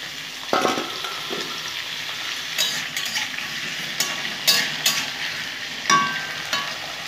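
Kohlrabi pieces tipped into hot oil with tempering spices, sizzling steadily while being stirred in the pan, with occasional louder scrapes and clinks of the spatula over a continuous frying hiss.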